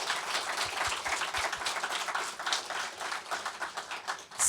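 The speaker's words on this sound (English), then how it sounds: "Please give them a round of applause." A room of audience members claps for a panel of entrepreneurs at a leadership series event, the applause dense and steady throughout, fairly close, with no talking over it.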